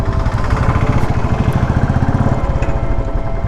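A Royal Enfield Classic 350 motorcycle idles with tappet noise, a loud, close, steady single-cylinder thump with a rapid even rhythm and a light mechanical ticking over it, with no talking.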